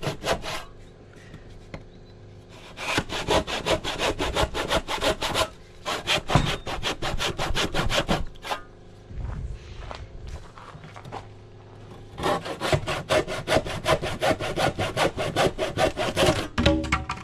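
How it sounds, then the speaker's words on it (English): A handsaw cuts through wood on a post-and-beam build during a metal roof install, with long bursts of rhythmic rasping strokes broken by short pauses and a few quieter rustling moments, heard close. "I'm just gonna get the handsaw and trim it out"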